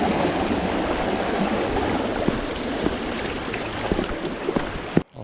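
Creek water rushing over rocks at a trout stream crossing, a broad steady close wash of flowing water with small splashes, ending in a brief knock.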